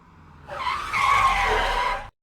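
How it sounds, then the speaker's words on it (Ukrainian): A car travelling fast on a road brakes hard, its tires squealing in a long, loud skid that builds and holds before cutting off abruptly, with no voices. "Водій, звичайно, загальмував"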